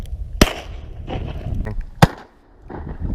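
Two sharp, loud shotgun blasts ring out over decoys while hunting diving ducks in a snowstorm, spaced over a second apart, with quiet voices and outdoor noise between them.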